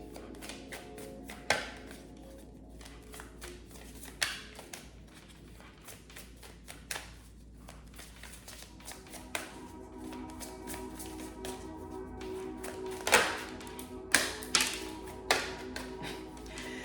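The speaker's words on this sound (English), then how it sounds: "Shuffling for Scorpio." Tarot cards being shuffled and tapped, soft riffling with intermittent sharper taps and slaps, close up and fairly quiet, steady for a long stretch.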